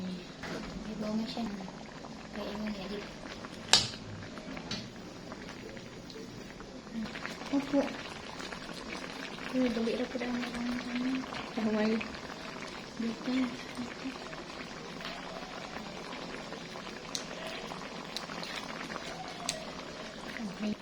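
Tulingan fish simmering in coconut milk, a steady low bubbling boil with soft pops, under occasional talk in the background.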